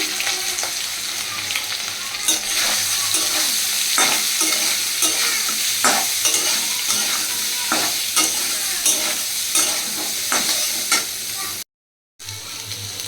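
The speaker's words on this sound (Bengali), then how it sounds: "এখন আমি এই সয়াবিনে নুন হলুদ দিয়ে করে রাখা এটাকে আমি ভালো করে একটু ভেজে নিচ্ছি" Soybean chunks coated with salt and turmeric fry in hot oil in a kadai, a loud continuous sizzle broken by regular stirring scrapes and clinks, with a short silent gap near the end.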